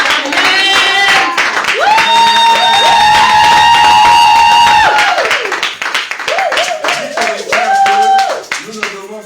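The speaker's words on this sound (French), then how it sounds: "Est-ce que nous pouvons acclamer Jésus ce matin?" A church congregation at a Sunday thanksgiving service applauds and claps loudly and steadily to acclaim Jesus, mixed with cheers and a sung or shouted exclamation, the applause swelling then breaking into rhythmic claps.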